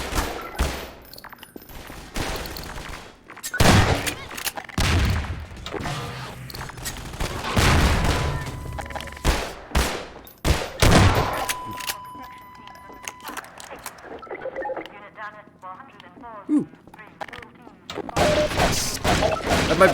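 Gunfire from the shooter game Half-Life 2 crackles in loud, rapid bursts and single sharp booms, close and dense, while a player talks over much of the action.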